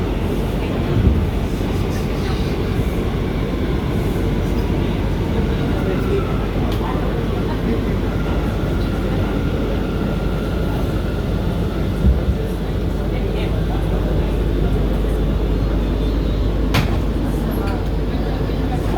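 Steady low rumble of a New York City subway C train of R179 cars in motion, continuous rolling noise with wind buffeting and occasional clanks, loud and close throughout.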